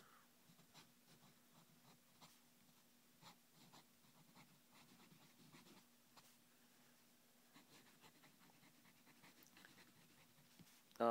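A Faber-Castell Basic fountain pen with a medium nib scratches across paper in short, quiet strokes and taps, faint and close, with a steady low hum underneath and no talking.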